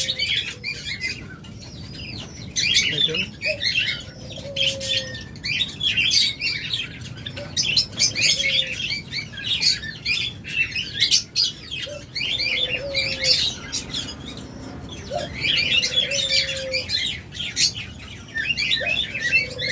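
Caged birds, Java sparrows among them, chirp continuously in a busy chorus of high twittering, with short clear piping notes and occasional wing flutters, close and lively.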